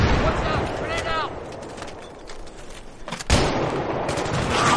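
Sustained suppressing gunfire in the military shooter game Battlefield 3, with dense bursts of weapon fire and a loud blast near the end, over a busy battlefield backdrop.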